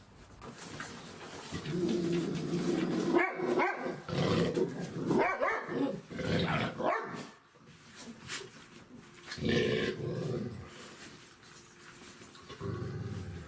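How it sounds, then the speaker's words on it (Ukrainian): A dog barks and growls at puppies in several bursts, close by, separated by short pauses, with birds cooing faintly in the background. "Перше, що собака зробила, це рикнула або гавкнула, створюючи неприємний звук."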